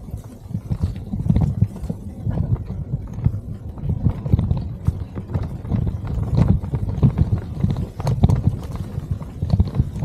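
A horse's hooves clop along a mountain loop trail, a steady close rhythm of hollow thuds repeating throughout over low background rumble.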